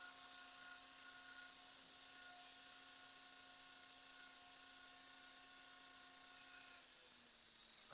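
Electric RC scale Long Ranger helicopter spinning its rotor at high head speed, a steady faint whine with a constant pitch throughout, heard from a short distance.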